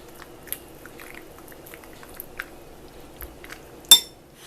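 Chewing and biting into vegan, oil-free, Daiya-free macaroni and cheese (pasta in a cheese sauce sprinkled with red pepper): soft, sparse close-up mouth sounds, ending with one sharp clink of cutlery against a dish.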